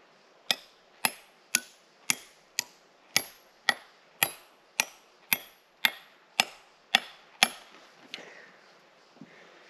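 Hammer striking steel wedges to split stone: about thirteen sharp, evenly spaced metallic blows at a steady rhythm, close and clear, ending with a couple of fainter knocks.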